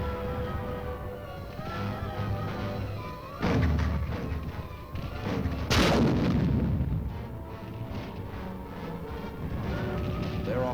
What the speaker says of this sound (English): Their offensive was supported by heavy aerial bombardment.